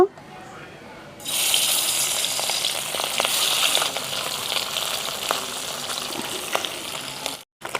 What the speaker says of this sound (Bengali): তেল গরম হয়ে গেছে এবার মাছগুলো ভেজে নেব